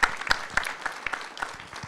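Applause from a conference audience after a presentation on connected housing innovation, a steady patter of many hands with sharp individual claps standing out, moderately loud and free of speech.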